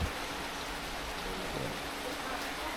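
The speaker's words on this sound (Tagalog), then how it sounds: "Umuulan-ulan dito." Steady, soft patter of light early-morning rain on an island in Southern Leyte, a continuous even hiss with no voices, heard from a short distance.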